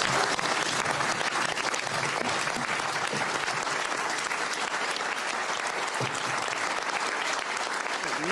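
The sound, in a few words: applause for Marine Le Pen by deputies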